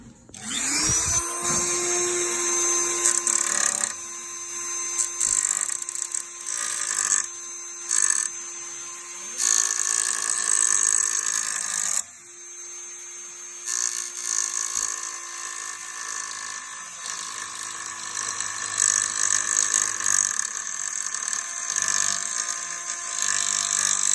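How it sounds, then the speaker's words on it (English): A Dremel rotary tool whines steadily as it cuts plastic radio trim pieces from a Nissan Frontier dashboard, a loud, sustained high-pitched buzz broken by a few brief pauses and shifts in load. "So I'm gonna do that with the dremel that I have."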